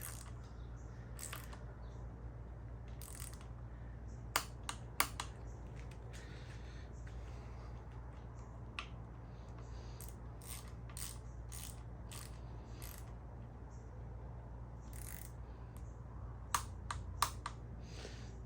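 Bolts on a Fox Float 36 mountain bike fork are tightened with a ratcheting tool, giving sparse, sharp clicks and short ratchet bursts over a quiet low hum.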